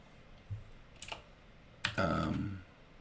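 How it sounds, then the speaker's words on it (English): Keyboard typing in a Minecraft Bedrock Edition session, a few quick close clicks followed by a short dense burst of keystrokes, with no talking. "I'm going to type in here"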